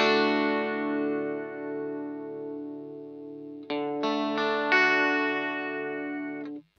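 Electric guitar played through a Roland Cube Lite amp with its chorus effect turned up past halfway, ringing chords with a wavering, shimmering modulation; a sustained chord fades, then several fresh strums ring out, with no talking.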